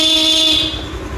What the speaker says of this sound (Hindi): उसको सेट करने से हम लोग का हॉर्न और तेज़ से बज सकता है